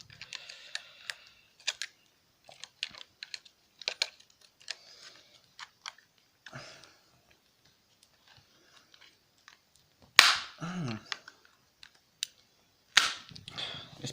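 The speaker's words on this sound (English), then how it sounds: "Breaking off some of the sharp plastic. See if I can peel that." Sharp plastic casing broken and peeled off a laptop power bank during a teardown: scattered close crackles, snaps and clicks in irregular bursts, with a couple of louder sharp cracks and creaks.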